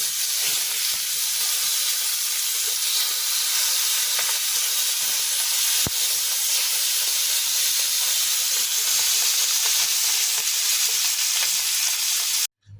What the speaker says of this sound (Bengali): আমি একটা প্যানে মাছগুলো ভেজে নিচ্ছি